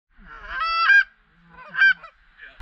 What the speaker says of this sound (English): We see another loner goose, and our party calls it in.